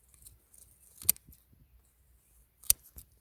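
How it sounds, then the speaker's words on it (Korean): Pruning shears cut deep into soil to sever fern roots in a bracken field, giving two sharp, close snips about a second and a half apart against quiet outdoor background, with no speech. "전지 가위 같은 걸로 이렇게 땅 깊이 해가지고, 깊이 좀 이렇게 해가지고 잘라 주시고"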